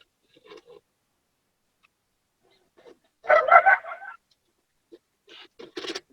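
Dogs barking at a distance behind an open microphone, a few short, faint barks spaced apart with a louder cluster in the middle and a couple more toward the end amid near silence.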